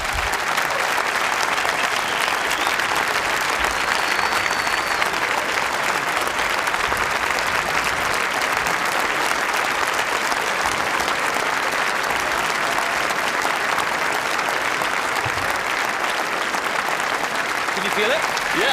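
Sustained audience applause fills a TED talk hall, a dense, steady roar of clapping holding loud and even for nearly twenty seconds.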